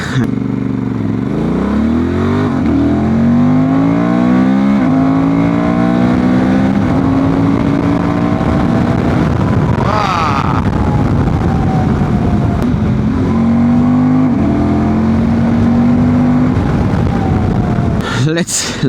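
A Honda Transalp 750 motorcycle with a remapped ECU accelerates hard as its rear wheel spins, the engine note climbing and dropping in loud, close revs while someone talks over it.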